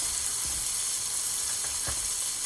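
A burger patty fries in a pan with a steady, close sizzle and crackle, broken by a few soft scrapes or knocks, with no voices.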